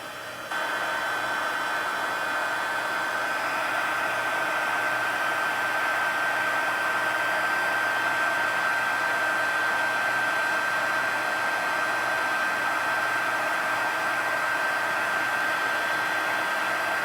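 A heat tool blows hot air to melt embossing powder on a handmade card, a loud, steady fan whoosh with a faint whine that switches on and runs unbroken and close, with no talking.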